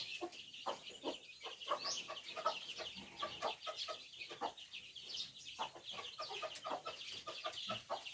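Several chickens cluck and murmur continuously nearby, a busy overlapping chatter of short clucks with occasional higher peeps.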